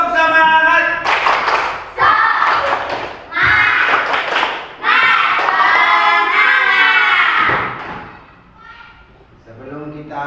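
A classroom of students performs a rhythmic spirit clap, sharp group claps in quick patterns mixed with chanting voices, loud and close.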